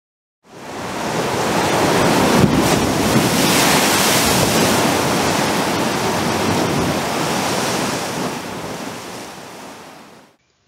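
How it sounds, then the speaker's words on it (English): Massive ocean waves surge and crash continuously while a howling wind roars over them, a loud, dense wash of surf and gusting air that fills the whole stretch before cutting off. "But the massive waves and howling wind drove the great ship in without grace."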